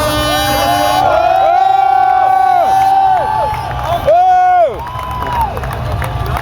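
A large outdoor crowd in the centre of Strasbourg, out in the rain, cheers and whoops loudly, with shouts and tonal calls rising and falling for several seconds.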